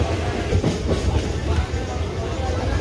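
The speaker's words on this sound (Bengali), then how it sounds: "ট্রেনটি দীঘার উদ্দেশ্যে রওনা দিল।" A local train bound for Digha pulls out, its wheels clattering steadily over the rails in a loud, continuous rumble.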